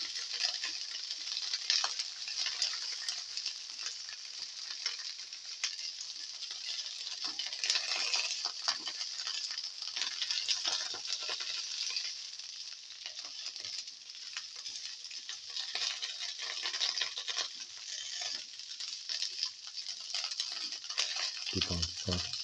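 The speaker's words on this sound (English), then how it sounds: "Put in the okra pieces" Okra pieces frying in a pan, a continuous bright crackling sizzle with frequent scraping and clinking stirs, moderately close and steady across the whole stretch.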